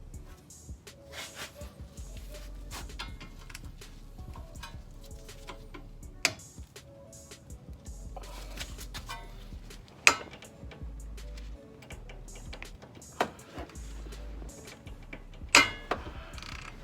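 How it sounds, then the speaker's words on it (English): Mechanical ratcheting from a 17mm socket and ratchet working loose the brake caliper bolts on a car's steering knuckle, a run of close, fairly quiet clicks and ticks with a few sharper knocks as the bolts break free. "use a 17mm socket and ratchet to break free the caliper bolts holding to the knuckle"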